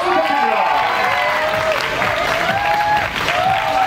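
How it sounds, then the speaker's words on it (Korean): Applause from a large crowd at an Adidas Son Heung-min fan event, steady and loud throughout, mixed with cheering and a host's amplified voice talking over it. "박수 부탁드립니다."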